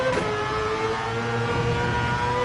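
A race car engine in the Gran Turismo 7 racing game holds a high, buzzing, steady drone, near and continuous throughout, with no talk over it.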